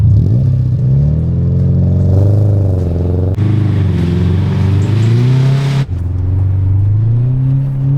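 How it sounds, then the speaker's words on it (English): Subaru rally car driven in low range second gear across a bumpy field, engine droning loud and close with rising and falling revs, a sharp knock partway through as it pushes through brush. "Okay, I'm gonna go low range, 2nd gear to ensure we have enough speed."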